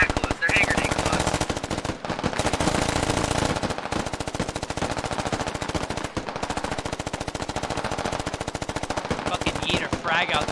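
Sustained suppressing fire from a machine gun in the Squad military shooter game: loud, rapid, continuous bursts broken by brief pauses, with a voice talking faintly underneath.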